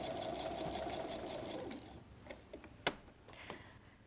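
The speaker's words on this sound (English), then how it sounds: "Sew all the way across the top of the pocket flap" A sewing machine stitches across the top of a messenger bag's pocket flap in a steady, close whirring run for about two seconds, then stops, followed by a few short handling clicks and taps.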